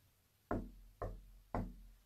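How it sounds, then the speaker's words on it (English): Three evenly spaced knocks on a wall or door inside a house, close and solid, each a dull thump that fades quickly, with no voices. "And again, I'm going to knock."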